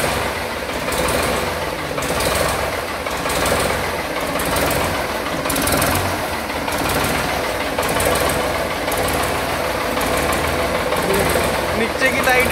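A Ford 3600 tractor idling nearby, a steady, rough mechanical chug that runs throughout, with a voice speaking over it at times.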